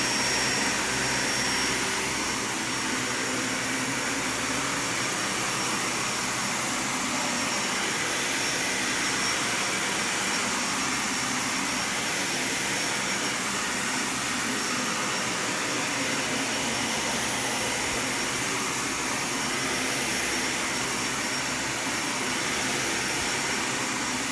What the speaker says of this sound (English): you're technically not supposed to vacuum your carpet this fast